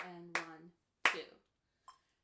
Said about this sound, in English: So let's clap and count this.